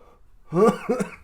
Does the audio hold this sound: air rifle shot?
no